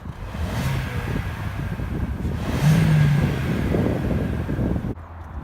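A car engine idles with a low, rough rumble, rising briefly into a deeper rev through the old exhaust before an exhaust swap, then settling and cutting off.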